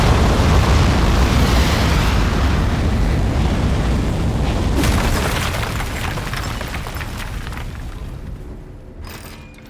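A loud, broad roar of a rocket lifting off in the video game Aperture Desk Job, heavy and continuous before slowly fading and thinning toward the end.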